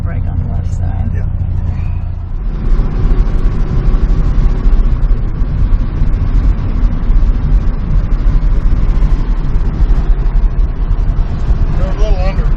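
A 1972 Volkswagen Super Beetle with a 60 horsepower engine drives on its first run in 20 years, pulling hard to the left under braking. A loud, close engine drone and road rumble swell after a short quieter start, and voices talk over it.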